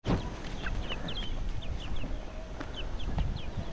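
Chickens cluck in short, repeated calls close by, a chorus of clipped notes over a low outdoor background.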